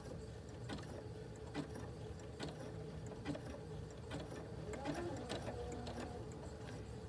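Domestic sewing machine with a button foot lock-stitching a button, a quiet rapid mechanical ticking and whirring with regular clicks, steady and close with no talk.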